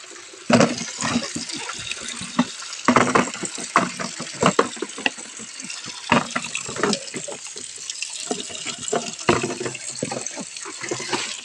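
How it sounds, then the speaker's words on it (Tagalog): Spring water pours and splashes nearby, a continuous gushing rush with uneven bursts of louder splashing, while people talk intermittently over it. "Spring water."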